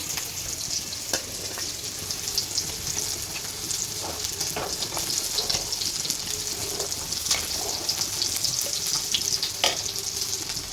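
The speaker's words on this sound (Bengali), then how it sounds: "অনবরত নাড়তে থাকুক দুধটা গুড়টা এখন গলে যাবে" Milk with melting jaggery and grated coconut bubbles and sizzles in a pan for chusi pitha, with a steady hiss and occasional soft scraping clicks of a stirring spoon, close and fairly loud.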